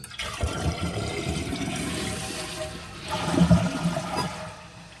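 A household toilet with a newly replaced flapper valve flushes nearby, a loud rushing swirl of water that surges again midway, then tapers toward a quieter refill trickle, with no voices.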